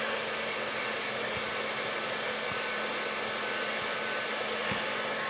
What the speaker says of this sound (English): I'm going to hit it with a heat tool just to make sure it's good and dry